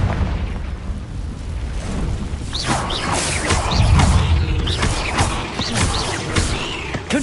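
Fiery Confringo spell blasts in a Hogwarts video game, several booming bursts and whooshes rolling one after another, loud and dense over a rumbling cave ambience.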